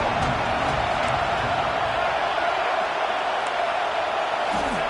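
A college football video game stadium crowd for Notre Dame versus Texas A&M on a third-down red zone play: a steady roar of distant crowd noise with faint cheers, continuous throughout.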